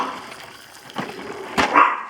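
A dog barks a few times at a moderate distance, short sharp yaps coming irregularly, the last one slightly drawn out.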